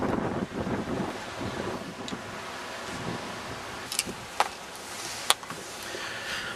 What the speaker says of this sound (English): hopefully the wind won't affect the microphone too much on this one